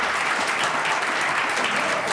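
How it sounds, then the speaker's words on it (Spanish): Studio audience applause on a talk show, a steady dense wash of clapping that fills the whole stretch at close range, with no talk over it. "¡Fuerte el aplauso!"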